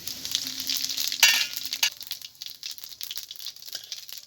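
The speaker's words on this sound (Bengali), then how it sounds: "ফোড়নে দিচ্ছি গোটা জিরে" Whole cumin seeds hit hot mustard oil with a sharp burst of sizzling, then crackle and spit more softly as they keep frying, close by.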